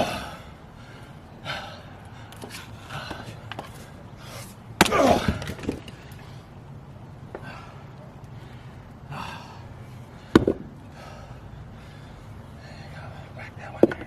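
Fiskars X27 axe striking knotty firewood split by hand outdoors, a few sharp, isolated whacks spread across the clip, with heavy breathing and grunts between strikes.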